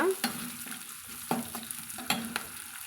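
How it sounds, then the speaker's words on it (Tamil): Curry leaves sauté in hot oil in a pan while making rava upma, a steady close sizzle broken by a few sharp scraping stirs of a spoon, with no voices. "கொஞ்சமாக கருவேப்பிலைகளும் நம்ம சேர்த்துக்கலாங்க சேர்த்துட்டு நம்ம அதை வதக்கி விட்டுக்கலாங்க"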